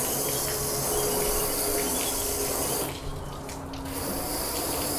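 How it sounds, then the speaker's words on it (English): Water from a hose floods a sealant-coated car panel, a loud continuous close-up rush and spray that briefly drops for about a second before resuming full force, with no talk. "let's just flood the panel and see how the water sheets away"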